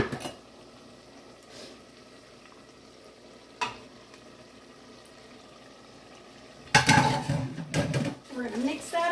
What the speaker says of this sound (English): We're going to mix that up, and we're going to just break it down.